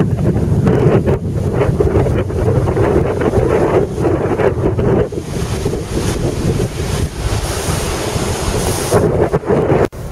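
Rough water churning in a bay with strong wind buffeting the microphone, a loud continuous roar of surf and gusts with no talk.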